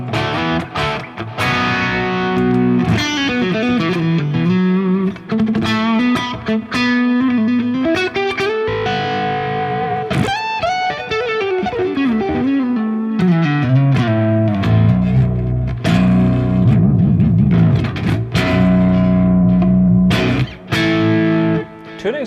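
Distorted electric guitar with coil-split pickups plays sustained melodic lines and bends with effects and reverb, loud and continuous throughout with no talk.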